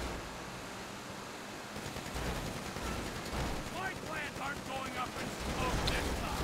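Gunfire aimed at bikers in GTA V Online, with rapid bursts of automatic shots and clattering impacts over a noisy driving background, moderately loud throughout.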